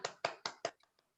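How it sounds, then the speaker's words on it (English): A few sharp hand claps at a Toastmasters morning meeting, about four distinct claps in quick succession followed by a couple of faint trailing ones, fairly quiet and brief. "A round of applause for our Toastmaster this morning."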